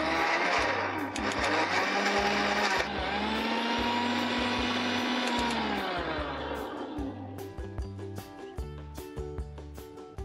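A blender whirs loudly as it spins a watermelon drink with ice, a strong steady motor drone with a grinding, rattling edge that wavers and eases off toward the end.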